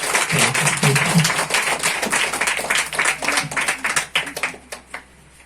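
An audience at a church clothes-distribution gathering applauds to welcome a speaker; loud, dense clapping close by thins into scattered individual claps and fades near the end.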